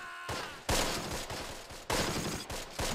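Bursts of rifle and machine-gun fire from the Close Combat: The Longest Day war game, several loud overlapping volleys crackling in rapid succession, with no talk.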